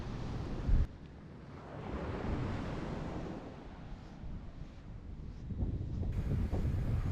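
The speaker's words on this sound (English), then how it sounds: "the beautiful beach we're on right now, it's called Playa Farallon" Surf rolling onto the wide sand of Playa Farallon in Rio Hato, Panama, a steady broadband wash of waves that swells and recedes, with gusts of wind buffeting the microphone throughout.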